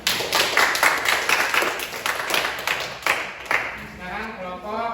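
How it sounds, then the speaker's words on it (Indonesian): A classroom group claps for a presentation by group 1, with quick overlapping hand claps at close range and voices chattering beneath, the clapping thinning out toward the end. "itulah kelompok 1, tepuk tangan dulu"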